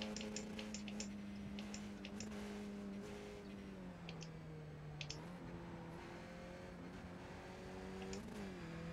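Race car engine stuck in third gear in the iRacing sim, a steady droning engine note that dips and rises slightly as revs change, with faint ticking clicks over it and no talk.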